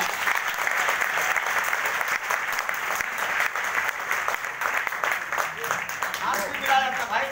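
Enthusiastic audience applause for someone at a women's empowerment event, a dense burst of clapping that runs steadily before thinning out, with voices beginning to speak near the end.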